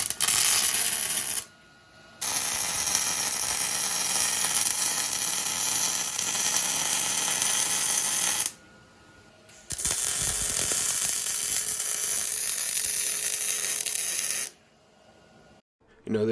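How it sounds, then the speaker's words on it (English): Welding on a Jeep JL long arm kit track bar bracket gives long, loud bursts of crackling buzz, three separate runs broken by short pauses, close by. "I'm going to weld it together"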